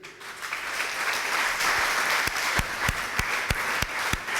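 A worship congregation applauding, a broad wash of clapping that builds and then turns into a steady rhythmic beat of sharp, evenly spaced claps.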